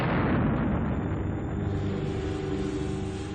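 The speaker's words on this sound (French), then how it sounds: "Les incendies déclenchés par les torpilles ont atteint le dépôt de munitions," A ship's ammunition depot explodes after torpedo-set fires reach it during a 1945 kamikaze attack, heard as a deep, continuous roaring rumble with broad noisy blast texture, loud and sustained throughout.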